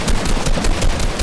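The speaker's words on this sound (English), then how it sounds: "Oh, I hit the headshot, no scope!" Rapid gunfire in the Fortnite video game during a no-scope headshot, a dense burst of sharp repeated shots packed tightly together, loud and close across the whole short moment.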